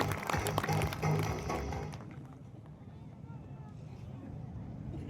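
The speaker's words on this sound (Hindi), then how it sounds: "तालियां।" A seated crowd at a Kumhar community felicitation ceremony in Nohar bursts into applause for about two seconds of dense clapping. It then fades into a quiet hall murmur with light background noise.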